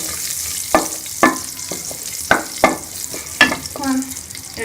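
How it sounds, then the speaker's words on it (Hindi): Cumin seeds roast in a hot pan with a steady close sizzle, broken by several sharp scraping stirs of a spoon against the metal. "और इसके अंदर हम ये जीरा डाल देंगे। इसको थोड़ा सा भून लेंगे।"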